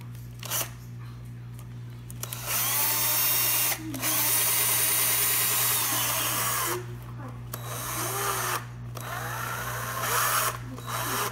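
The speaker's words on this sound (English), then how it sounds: "I'm going to turn the knob, and I'm going to screw from the back." A power drill drives a screw into the back of a cabinet knob in bursts of close, loud whirring separated by short pauses, with a steady low hum underneath throughout.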